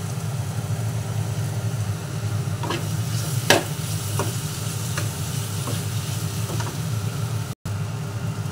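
Vegetable kachori filling being stirred in a pan, a soft steady sizzle with a low hum underneath and several sharp spoon scrapes and taps spaced through it, close but fairly quiet.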